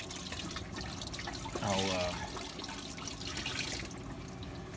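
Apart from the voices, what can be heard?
water draining out of a spin dryer on a sailboat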